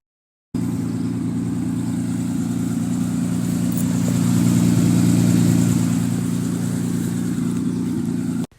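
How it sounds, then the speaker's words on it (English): The engine of a Ford Bronco II runs through a very loud exhaust, idling with a steady, deep rumble and swelling slightly in the middle. The sound is close and continuous, with no talking. "As you can see, the exhaust is very loud."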